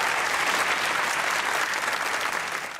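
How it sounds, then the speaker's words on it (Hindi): A television comedy show's studio audience breaks into dense, loud applause for a guest, the clapping steady and then tapering slightly at the end. "नुमान भाई के लिए ताली होगी।"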